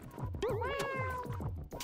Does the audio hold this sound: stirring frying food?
no